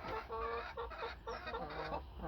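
Egg-laying hens in a coop on an allotment cluck and murmur in a busy, overlapping chorus of short calls, fairly close and steady throughout, with no talk over them.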